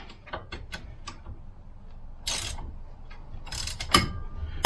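Ratchet snugging bolts during a CFMOTO ZForce front axle install, heard as a run of short, close clicking bursts with a few louder metallic clacks, no talking.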